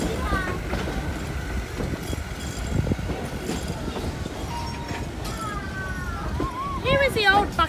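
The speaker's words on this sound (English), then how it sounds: "steam train returning." A steam train pulls into Buxton Station during a steam festival at Thirlmere, with rolling wheel clatter and rumble throughout and a few high squeals of wheels or brakes building toward the end.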